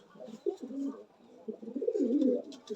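Soft, low cooing from high-flying pigeons in a loft rolls on continuously, nearby and fairly quiet, with a few light rustles.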